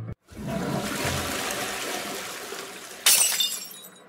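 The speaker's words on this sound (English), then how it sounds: "there was a cat jump at the window and broke the glass" Window glass breaks when a cat jumps at it. A sharp shatter cuts in after a steady wash of noise, followed by a brief tinkling of falling fragments.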